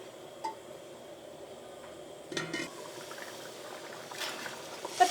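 Coconut milk curry for chicken simmers in a covered pot, a soft low bubbling heard close and fairly quiet, with a few faint clinks.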